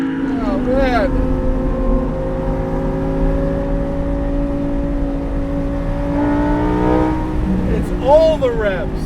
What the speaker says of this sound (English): All the revs. This engine revs so much that you can downshift from 5 grand in some places